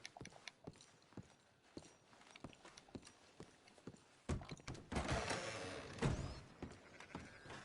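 A horse's hooves clip-clop in Red Dead Redemption 2, a steady, evenly spaced trotting rhythm that continues as a louder rush of noise and movement sounds swells in partway through.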